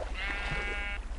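A sheep in the Minecraft video game gives one steady, wavering bleat lasting most of a second, clear and fairly close over low background hum, with no talking over it.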